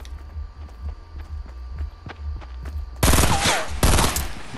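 Shotgun fire in the video game Fortnite, two loud, close blasts near the end, after a stretch of rapid footsteps over a low rumbling background.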